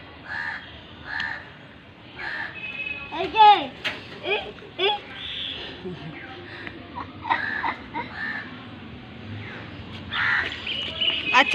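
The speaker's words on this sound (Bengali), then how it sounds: "ওই যে কাক এসে গেছে এবার।" A crow caws repeatedly on a rooftop in short, sharp bursts, with a small child and an adult talking and babbling nearby.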